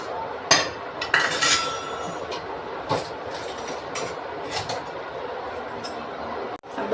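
Gram flour and yogurt batter for dhokla is stirred in a bowl, producing scraping clinks and thick sloshing taps at an uneven pace, fairly close and without talk.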